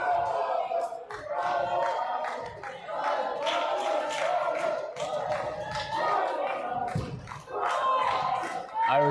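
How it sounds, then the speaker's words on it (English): Irish fans cheer loudly in the crowd at a women's Five Nations volleyball third-place match, a sustained roar of voices and clapping with shouts rising and falling throughout, close and dense. "Irish fans in the crowd getting lively right now"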